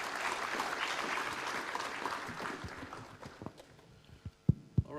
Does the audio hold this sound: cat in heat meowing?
no